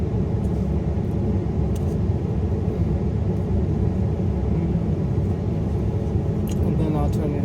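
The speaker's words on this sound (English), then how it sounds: "the noise in the background is my heat" Warming a car on a cold day, the heater blower gives a constant low rumble and airy hum that holds steady throughout, with occasional light clicks and faint movement sounds nearby.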